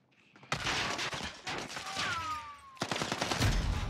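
Gunfire in the video game Warzone: loud, dense bursts of rapid shots start abruptly and carry on almost without pause, with a brief falling whine in the middle and a fresh volley near the end.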